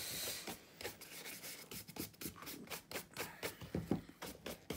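Leather Paraboot shoes having polishing cream rubbed in by hand, a steady series of soft brushing, rasping strokes repeating about twice a second, close and fairly quiet with no talking.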